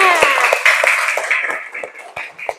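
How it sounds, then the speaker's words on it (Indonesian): Children in a classroom clap their hands, scattered and uneven, with voices calling out over the claps that thin out toward the end. "Tepuk tangan buat kalian semuanya."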